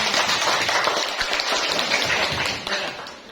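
Classroom students applaud together in a steady, dense patter of many hands that holds for a few seconds and fades slightly near the end.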